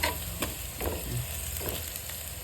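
Chicken biryani onions sauté in a pan, a close, steady frying sizzle broken by a few stirring scrapes over a short stretch with no voices.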